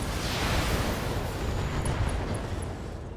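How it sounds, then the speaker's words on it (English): Mech ammo explosion in the BattleTech video game, a loud, sustained roaring blast that rumbles and slowly fades, with faint high pings near the end and no talk. "ammo explosion"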